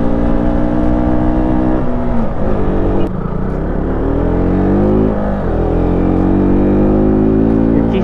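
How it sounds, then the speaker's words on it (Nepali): Dominar 250 motorcycle engine held at full throttle while labouring up a steep mountain road, a loud, steady, strained drone with shifting harmonic pitch as it struggles on the climb. "मेरो बाइकलाई फुल दिँदा नि नतानेको क्या उकालोमा यार"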